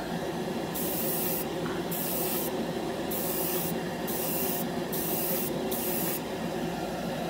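A Mr Hobby Procon Boy SQ single-action airbrush sprays in a steady, close hiss throughout, with short regular bursts of extra high-pitched air layered on top in an irregular on-off pattern.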